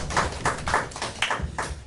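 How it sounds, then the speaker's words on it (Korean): A youth congregation at a church worship service claps together in a brisk, steady rhythm, close and full, the unison claps running throughout. "우리 하나님께 영광의 박수 보내주시다."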